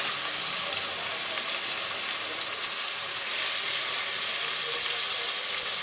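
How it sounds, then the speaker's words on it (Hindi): Finely chopped onions fry in oil until golden for a mutton qorma, giving a steady, close, bright sizzle with no talking. "और ये फ्राई करेंगे इसको हम हल्का सुनहरी करने तक"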